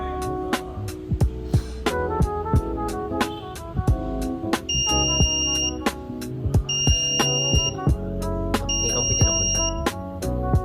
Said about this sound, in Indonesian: Arduino akan memberikan output berupa alarm buzzer yang berbunyi